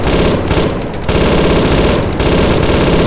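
Sustained, loud machine gun suppressive fire in a military shooter game, continuous dense bursts with a couple of brief breaks, close and dominant throughout.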